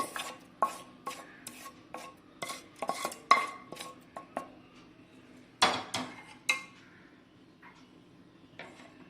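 A spoon scrapes and taps against a vessel while tempering is mixed into poha curd rice, giving a run of irregular close clinks and knocks with quiet gaps between them.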